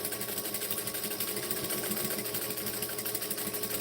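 A sewing machine runs steadily while stitching and back stitching a vinyl pouch, a continuous close whirring hum that holds an even rhythm throughout with no pauses.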